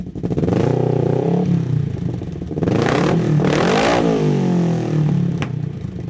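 A 2021 Kawasaki KRX1000 side-by-side UTV engine revs hard several times, rising and falling in pitch with a throaty, rumbling growl up close.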